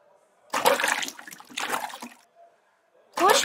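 A scarf washed by hand in water inside a video game, heard as two bursts of splashing and sloshing followed by a third that begins just before the end, each loud and close.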